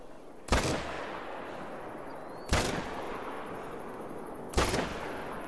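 Three loud rifle shots from a hunting video game, fired at a warthog at about 61 yards, each a sharp crack with a short decaying tail, spaced about two seconds apart over a steady low ambient background.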